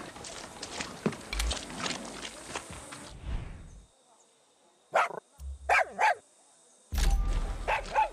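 Dog barking in the video game Far Cry 6: a few sharp barks close by, separated by quiet gaps, with rustling footsteps and background game noise around them.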